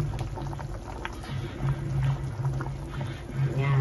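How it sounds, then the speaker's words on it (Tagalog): Steady low bubbling of a pompano fish stew with bitter melon and green chili simmering in a pot on the stove, with soft gurgles and small pops continuing throughout, close by. "buksan natin ulit kasi kumukulo na yung fish"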